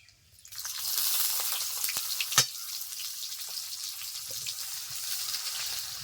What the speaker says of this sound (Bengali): তেল গরম হয়ে গেছে দিয়ে দিচ্ছি গোটা সাদা জিরে দিয়ে দিচ্ছি পেঁয়াজ কুচি